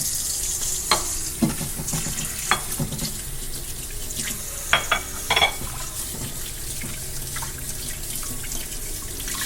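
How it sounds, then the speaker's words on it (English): Tap water runs steadily into a kitchen sink as raw salmon is rinsed under it, a continuous close splashing stream broken by a few sharp clinks and drips, with no talking. "So first I'm gonna wash salmon."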